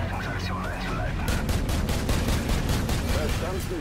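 Dense, rapid gunfire crackles in a sustained fusillade in Call of Duty 4: Modern Warfare, with sharp repeated shots that grow thicker after the first second.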